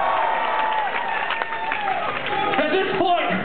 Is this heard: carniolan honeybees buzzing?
no